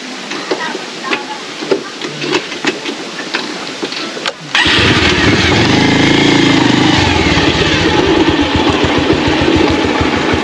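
A Bajaj Pulsar 150 motorcycle engine: light ticking and clicks at first, then from about four seconds in a loud, steady, close engine rumble that runs to the end.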